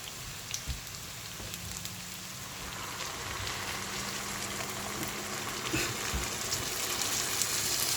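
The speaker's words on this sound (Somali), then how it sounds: "waxaan ku darayaa biyo kulula" A steady, hissing sizzle of water hitting a hot pan, bubbling and crackling continuously and growing slightly louder, with no talking.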